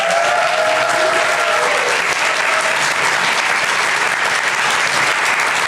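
Loud, sustained applause closes a naturalist club meeting on queer ecology, with a packed room clapping steadily throughout and a brief faint voice early on.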